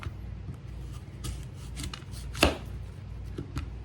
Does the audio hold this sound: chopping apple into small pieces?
yes